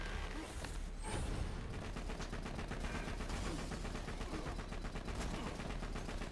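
Rapid gunfire in Borderlands 2, dense sustained bursts of shots filling the whole stretch at steady loudness, with no talk.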